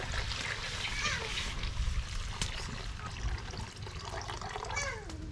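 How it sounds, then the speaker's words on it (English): Water bubbling and splashing as it boils in a cooking pot while a traditional Gabonese nyembwe dish is prepared, a continuous close gurgling wash with occasional clinks and faint voices in the background. "See, the water is already boiling."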